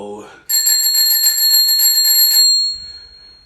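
A bicycle bell rings in a fast, continuous trill for about two seconds, close and bright, then cuts off, after a brief voice at the start.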